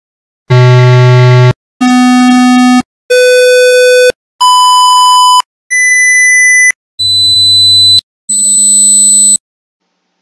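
Seven steady electronic test tones, each a different pitch from low to high, play one after another for about a second each with short silent gaps, presented 20 dB quieter than before.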